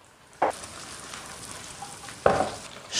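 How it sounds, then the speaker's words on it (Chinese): Ginger, scallion, garlic and fermented black beans hit hot oil with pork in a wok, giving two sharp sizzling bursts over a steady frying hiss. "下入姜葱蒜和豆豉"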